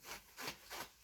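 Degreaser being scrubbed into a bicycle chain during winter maintenance: three soft, rhythmic rubbing strokes, quiet and close, with nothing else in the background.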